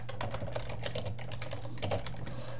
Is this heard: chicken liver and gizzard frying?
no